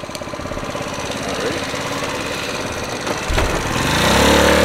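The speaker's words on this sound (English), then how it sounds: "Tyson's gonna take the Crush Orange over here for a ride." A Solana 50 four-stroke Chinese gas scooter with electric start being ridden, its small engine chugging loudly and rapidly nearby, then revving higher as it pulls away.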